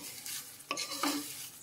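Curry leaves frying in a pan for pickle, a faint sizzle with a couple of quick clinking scrapes of a spoon against the metal as they are stirred.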